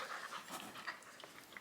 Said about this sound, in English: This dog's too big to be on my lap at this point.